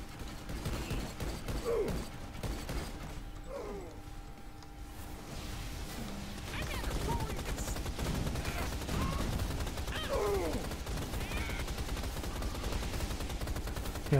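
Continuous rapid gunfire from a held-down trigger in the Rise of the Triad video game, mechanical clattering bursts running steadily under a voice talking.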